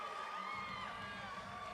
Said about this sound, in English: Tucson crowd's already pumped.